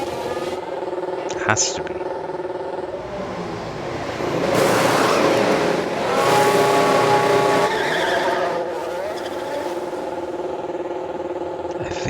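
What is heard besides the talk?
F1 car driving into the pits in the video game F1 Manager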